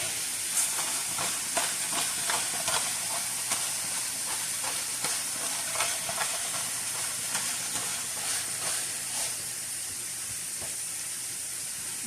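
Cheesesteak meat seasoned with garlic powder and pepper sizzles steadily in a hot pan, with a constant frying hiss and soft scraping clicks as it is stirred, close and alone.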